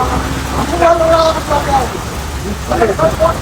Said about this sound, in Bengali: সুবহানাল্লাহ, এত সুন্দর বৃষ্টি।